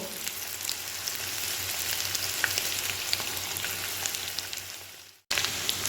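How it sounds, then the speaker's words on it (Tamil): Marinated chicken deep-fries in hot oil, giving off a dense, continuous sizzle close up that breaks off briefly near the end, then resumes. "இப்போ நம்ம சிக்கனை நல்லா ஃப்ரை பண்ணி எடுத்துப்போம்."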